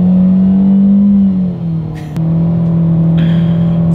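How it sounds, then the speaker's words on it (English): 2020 Chevrolet Spark economy car accelerating, a loud steady engine drone heard from inside that climbs, drops briefly at a gear shift, then carries on at a lower pitch. "Let's do a quick little acceleration test in the 2020 Spark"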